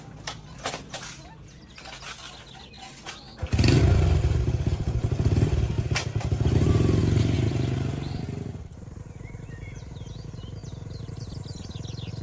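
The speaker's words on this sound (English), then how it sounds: "they both get on their old green motorcycle and head to the supermarket" An old green motorcycle starting up and setting off, its engine revving loudly up close before fading away, with birds chirping faintly in the background.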